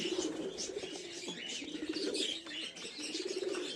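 Kaldoma pigeons in a loft coo in low, repeated murmurs that run through the whole stretch, with faint chirps and shuffling over them and no talk.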